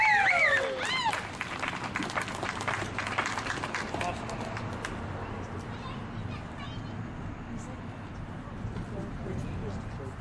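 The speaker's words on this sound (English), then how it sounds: "We can all clap now." At an outdoor Bill of Rights Day proclamation in Boise, Idaho, a crowd breaks into sustained, moderately distant applause after a voice speaks, the clapping settling into a steady patter mixed with murmuring people and a voice.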